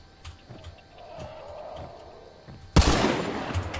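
Explosive-ammo gunshot in Hunt: Showdown: soft distant pops give way to one loud, close blast that leaves a long, rumbling, noisy tail.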